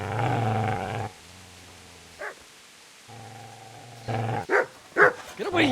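A dog in Kingdom Come: Deliverance gives sustained low growls, broken by sharp, close barks that come in a quick cluster near the end, with a short pause between the growling stretches.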